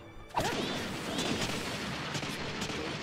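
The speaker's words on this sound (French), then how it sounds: "Explosion." An explosion from a Naruto Storm 4 fight bursts loudly after a brief quiet moment, then leaves a sustained, noisy roar and rumble that carries on to the end, along with faint swooshing effects.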